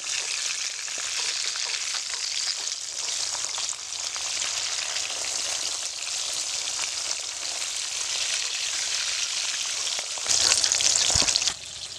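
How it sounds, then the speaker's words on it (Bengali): Pabda fish frying in hot oil for a posto pabda curry gives a steady, dense sizzle that fills the whole stretch, swelling louder with crackling spatter near the end. "সেম ভাবে আমি বাকি মাছগুলো ভেজে নিচ্ছি"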